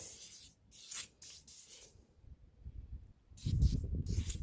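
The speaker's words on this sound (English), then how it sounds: "we're just going to spray the whole truck down with the silicone" Short hissing bursts of silicone aerosol spray onto a plastic RC truck, several quick sprays then a longer one, close and fairly quiet, with faint rubbing between them.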